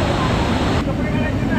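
The waterfall at Gupt Bhimashankar gives a loud, close, continuous roar of falling water with a broad wash of noise that dips briefly partway through, then carries on.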